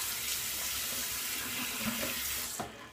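Water runs from a tap into a sink before a wet shave, a loud steady rushing stream that cuts off abruptly near the end.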